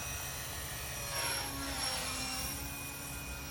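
A JCZK 300c Pro all-metal RC helicopter flying in 3D mode at high head speed makes a steady whining rotor and motor drone with high tonal harmonics and gentle swells, fairly close and with no talk.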